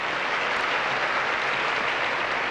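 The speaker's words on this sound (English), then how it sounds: "We applaud his choice and welcome back Miss Universe 1986, Barbara Palacios Tede." Dense, steady audience applause fills a large hall at the 1988 Miss Universe pageant, a continuous wash of many hands clapping at close range with no voices over it.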